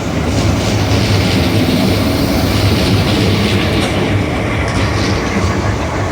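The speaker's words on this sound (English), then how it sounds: "And arriving in now is a Thameslink service down there, working a Terminating service, I believe, from Brighton." A Thameslink train from Brighton rolls into London Bridge station with a loud, steady rumble and rhythmic wheel clatter on the rails, heard up close without talk.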